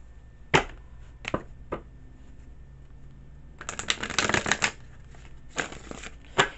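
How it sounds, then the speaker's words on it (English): Tarot cards shuffled by hand: a few sharp separate riffles, then a dense flurry of rapid flapping card snaps, close and fairly loud with no speech. "I like shuffling the cards"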